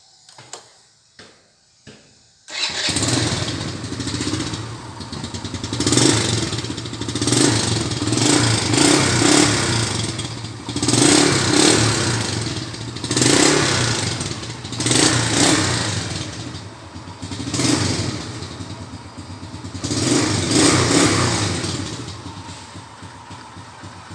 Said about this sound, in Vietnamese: Nổ máy lên cho các bạn nghe nha.